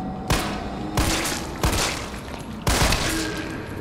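Gunfire from the video game Resident Evil 3 Remake, four loud booming shots spaced roughly evenly about a second apart, each with a short decaying tail.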